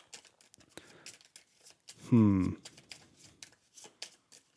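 Dune: Imperium playing cards shuffled in one short, loud, papery burst at mid-clip, with quieter talk before and after it.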